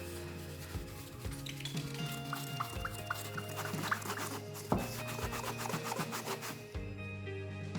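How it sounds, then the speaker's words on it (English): Repeated rubbing and scraping strokes as grout film is scrubbed off newly laid shower tiles in an off-grid cabin, moderately close, with a faint tonal background underneath. "there's like this grout film over a lot of tiles that comes from, wiping all the grout off."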